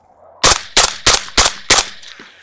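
A suppressed, piston-driven AR-15 rifle with a low back pressure suppressor fires five quick, evenly spaced shots, each a loud, sharp crack with a short decay, and no voices.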